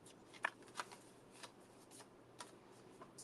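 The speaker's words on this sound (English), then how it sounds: "I'm folding it in half" Paper being folded in half by hand, a few faint crisp rustles and creases spaced irregularly, close and quiet with no talking.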